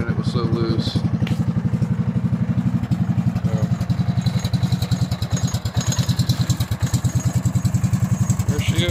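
A Cub Cadet 2166 lawn tractor engine idles up close with a loud, uneven, lopey thumping rhythm that runs steadily throughout.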